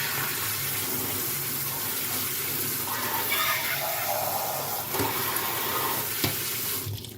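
Canned beans are rinsed under a running kitchen tap, a steady close splashing rush of water that continues throughout with slight shifts as the beans are moved.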